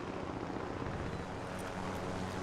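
A helicopter in Call of Duty: Modern Warfare, a loud, steady rotor and engine drone with a wind-like rush, continuous and close throughout, with no talking.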